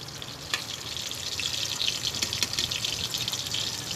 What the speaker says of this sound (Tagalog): Ilagay na natin yung bawang, sibuyas. Ayan. Inigisa na natin.